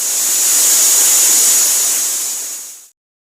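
A pressure cooker cooking beef gives out a loud, steady hissing rush of steam that holds for nearly three seconds and then cuts off abruptly.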